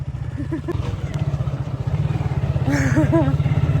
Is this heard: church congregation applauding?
no